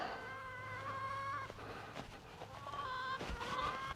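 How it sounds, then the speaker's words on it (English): Chickens cluck and squawk nearby in a busy, overlapping flock being herded into a new home on a farm, with a low hum and scattered knocks in the background. "start working these chickens across"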